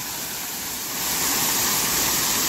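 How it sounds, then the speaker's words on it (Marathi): A steady, dense roar of a waterfall in Devgad taluka, rising slightly in loudness partway through, with no other sounds. "हे धबधबे जे प्रवाहित झालेत"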